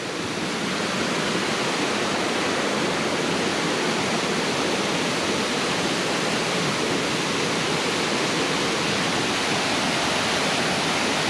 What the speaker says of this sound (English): Definitely raging waterfall there.